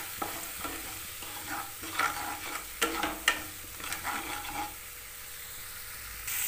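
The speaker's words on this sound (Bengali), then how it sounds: "স্বাদ মতো নুন, 1/2 টিস্পুন চিনি, সব মশলাগুলো একসঙ্গে ভালো করে কষে নেব।" Spices with salt and sugar for a vegetarian fig dish are sautéed in a pan, with a low background sizzle and a run of distinct scraping stir strokes at an irregular rhythm, fairly close and moderately loud.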